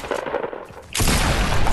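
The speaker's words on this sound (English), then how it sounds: "Oh, I shot him. I killed him." Video game gunfire erupts suddenly after a quieter stretch, a loud, dense burst of rapid shots filling the last part of the moment.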